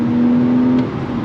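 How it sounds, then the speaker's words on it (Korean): A 2002 Porsche 911 Carrera's rear-mounted naturally aspirated engine holds a steady, loud droning tone, then eases off briefly, with a deep exhaust rumble underneath. "저는 머플러 사운드가 갖는 매력도 상당히 크다고"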